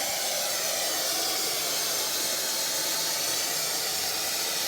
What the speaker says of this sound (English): Now this is going to drain the steam boiler.